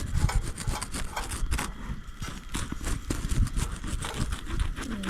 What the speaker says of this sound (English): just rub garlic over it